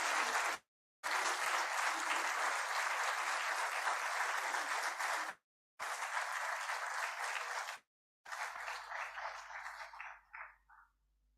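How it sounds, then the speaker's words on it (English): A large audience applauds loudly at a university ceremony as an annual report is released before the Vice President of India. The sustained roar of clapping is broken by a few abrupt gaps and fades out at the end. "Can we have a big round of applause"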